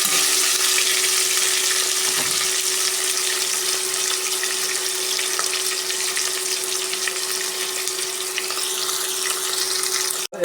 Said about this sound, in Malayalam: നമുക്ക് വഴറ്റിയെടുക്കാം.